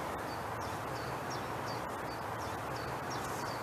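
A common chiffchaff sings a faint, repeated series of short chirping notes at an even pace, distant over a steady outdoor hiss near Poitiers, France.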